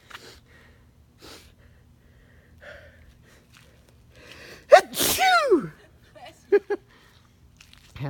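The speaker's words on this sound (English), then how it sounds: "I'm gonna sneeze." A man sneezes once, loud and close, in a house under construction. A sharp intake of breath comes before it and quieter breathing and small sounds follow in an otherwise quiet room.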